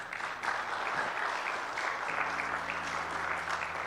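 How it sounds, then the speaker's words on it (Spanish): A church congregation claps steadily, a dense wash of many hands at moderate distance, joined near the midpoint by a sustained low organ-like tone underneath. "Quiero que des un fuerte aplauso al Señor."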